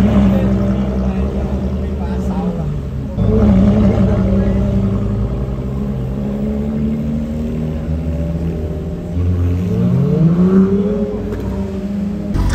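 A Ferrari LaFerrari supercar in the streets during the Monaco Grand Prix weekend, its engine idling with a loud, steady drone that swells into brief revs, while people talk over it throughout.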